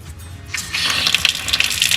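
Water running from a bus conversion's newly finished system fed by city water and a pump, starting quiet and then gushing steadily as the flow comes on, close by with a splashing hiss and no talking.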